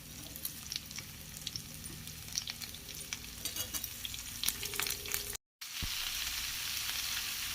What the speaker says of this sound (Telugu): ఇది బాగా మగ్గిన తర్వాత ఇప్పుడు మనం ముందుగానే కట్ చేసి పెట్టుకున్న దొండకాయ ముక్కల్ని ఇందులో వేసుకోవాలి.